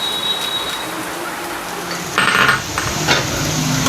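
Cashew nuts fry in hot oil in a pan, giving a steady crackling sizzle like rain on a surface, with a louder burst of spattering partway through and faint clinks of utensils.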